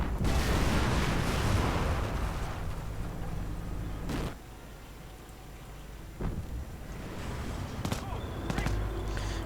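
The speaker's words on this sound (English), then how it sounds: "Quite a lot of heavy guns for the British." Heavy British artillery guns firing in a Company of Heroes battle, a dense rumbling barrage with several sharp booming blasts spaced a few seconds apart over continuous battlefield noise, with a voice talking over it.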